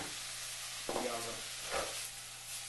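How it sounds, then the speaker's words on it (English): A stir fry sizzles steadily in a hot pan, with two short scraping stirs cutting through the constant frying hiss. "Now it's frying."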